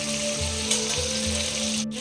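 Green and ripe chillies fry in hot oil with hilsa fish, giving a steady, close sizzle with a low rhythmic pulsing underneath and no talk.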